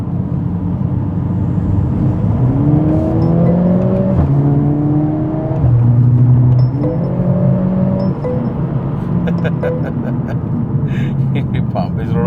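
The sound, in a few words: Mercedes AMG A45 S exhaust in Sport mode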